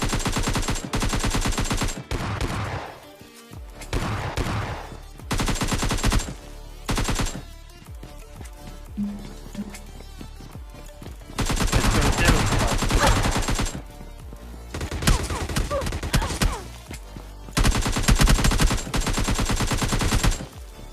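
Bursts of automatic gunfire from a PUBG Lite match, with a single-shot S12 shotgun in play, crackle loud in repeated volleys separated by short gaps of quieter game sound.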